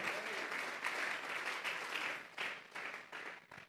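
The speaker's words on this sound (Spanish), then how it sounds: "Vamos a regalarle ofrenda de palmas al Dios de la gloria." A church congregation claps together in steady, sustained applause for several seconds, a dense wash of many hands with small swells and dips and no talking over it.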